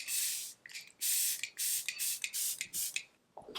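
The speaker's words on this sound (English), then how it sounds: "It's the Hourglass Soft Focus, Veil Soft Focus Setting Spray." An Hourglass Veil Soft Focus setting spray fires several short, crisp misting bursts up close, each about half a second long with brief gaps between them, ending in a faint rustle.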